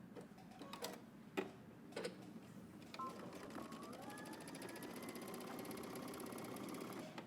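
A sewing machine stitches along a dress hem, first a few clicks and taps, then a steady whirring run of rapid stitching, quiet and close.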